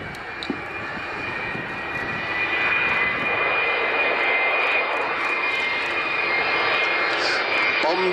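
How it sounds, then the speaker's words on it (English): Loud, steady roar of Avro Vulcan bomber jet engines, building and holding throughout, with a voice speaking briefly over it. "I expect to see Kev bringing her back in towards the Vulcan and 2 Lancasters"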